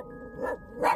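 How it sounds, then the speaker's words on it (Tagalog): A dog close by gives two short barks about half a second apart, loud and sharp in an otherwise quiet indoor space, with no talk over them. "May mga aso din pala dito."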